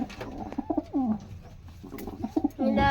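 Pigeons coo in a series of soft, throaty calls close by, several rolling bursts spread across a few seconds with brief gaps between them.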